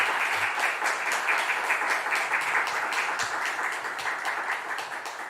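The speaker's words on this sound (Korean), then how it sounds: "우리 박수로 다시 한번 감사의 마음을 표하시면 좋겠습니다" Steady applause from a church conference audience, dense and even for several seconds before beginning to thin out.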